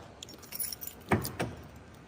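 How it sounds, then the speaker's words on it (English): Car keys jangle in a few quick metallic shakes at close range, with two brighter rattles midway, picked up near a 1970s Plymouth Road Runner muscle car fitted with a 512 stroker engine. "Grab the keys."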